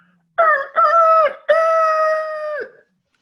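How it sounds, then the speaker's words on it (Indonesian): A rooster crows in a drawn-out cock-a-doodle-doo, two short opening notes followed by one long sustained call, loud and close with nothing else around it. "Ada seekor ayam berkokok."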